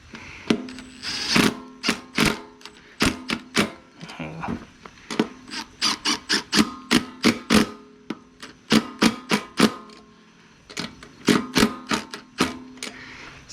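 A socket wrench is cranked on a bolt of a push lawn mower, producing rapid bursts of sharp ratchet clicks in quick trains with brief pauses between, close and loud, with no voices.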